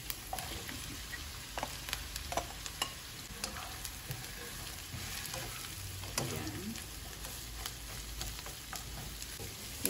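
Sliced sweet potato sautéing in a pan with onion, a steady close sizzle and frying hiss with frequent scraping stirs throughout, no talk.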